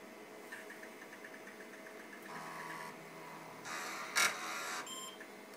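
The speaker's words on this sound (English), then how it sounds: "Just firing up the IPC AT." An IPC 80286 AT computer boots up with faint fan hum and drive whir, soft repeated ticks, then a brief louder burst and a short beep near the end.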